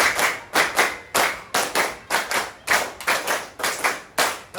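A group in a classroom claps a steady counted pattern in unison, repeating short clusters of sharp, close hand claps with brief gaps between them, with no voices.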